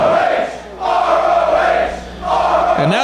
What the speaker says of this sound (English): And now the crowd's just chanting ROH.